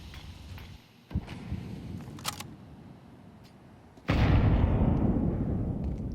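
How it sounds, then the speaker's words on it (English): A grenade bursts in a smoke cloud during a competitive Counter-Strike match, a sudden loud hiss-burst that sustains over the game's ambient background after some faint clicks and pops. "Just heard that nade break the smoke"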